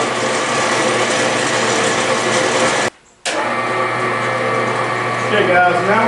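A power saw cutting a board at high speed, about 90.6 RPM, gives a loud, steady mechanical whine and hum that cuts out briefly partway through, then resumes.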